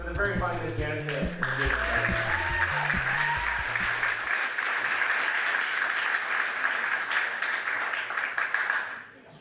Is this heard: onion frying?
no